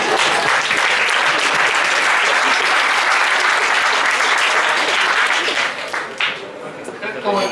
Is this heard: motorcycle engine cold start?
no